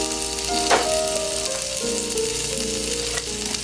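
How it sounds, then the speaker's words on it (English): One pound of ground turkey sizzles and crackles steadily in a hot frying pan, a loud, continuous fry with faint stirring scrapes and a soft tonal hum underneath, no voices. "Now we're gonna put the turkey. We put it to 1 pound. Oh, she's a sizzling."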